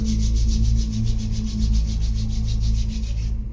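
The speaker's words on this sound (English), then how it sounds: "Join your both palms. Rub your palms faster." Two palms rub together quickly in a steady, rhythmic back-and-forth swish, close and fairly loud, with no voice over it.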